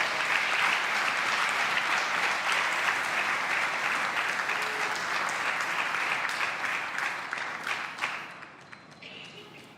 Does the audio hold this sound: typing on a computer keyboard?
no